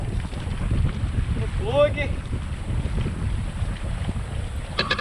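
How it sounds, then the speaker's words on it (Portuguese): Heavy wind buffets the microphone in a steady low roar, with a short burst of speech in the middle. "Não tava filmando porque tá ventando demais"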